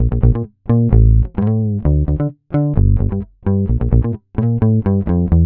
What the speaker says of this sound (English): So what I did is take this real bass from Kontakt,